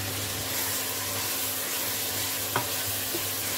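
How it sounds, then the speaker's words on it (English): Food sizzles steadily in a hot pan while being stirred, a continuous frying hiss with a faint utensil knock partway through and no talking. "Okay, let it fry a bit,"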